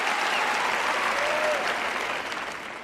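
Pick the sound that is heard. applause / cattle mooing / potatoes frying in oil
applause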